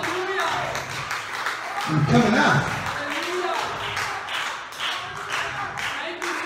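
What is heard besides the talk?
congregation clapping hands in church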